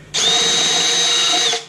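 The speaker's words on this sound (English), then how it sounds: "we'll just take our little carbide bit on our drill here" A power drill with a carbide bit runs in a single steady, loud burst of about a second and a half, working on a TH400 transmission setup, with no talking over it.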